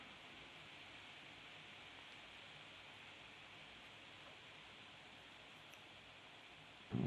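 Rain falling outdoors, a steady, even hiss that holds unchanged throughout with no voices, ending in a brief knock.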